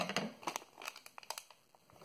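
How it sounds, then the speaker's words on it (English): Scissors snipping open a crinkly plastic Lego minifigure blind bag, with a quick run of sharp crinkles and cuts close up, rustling irregularly on its own without talk. "No, forget it, I'm using scissors."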